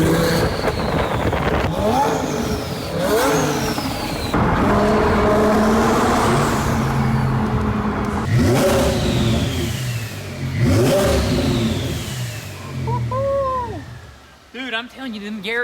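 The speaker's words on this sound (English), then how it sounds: "It's a Lamborghini." Twin-turbo Lamborghini Aventador SV engine revving hard in repeated loud bursts, pitch sweeping up and falling back with each blip, close by, with people talking over it.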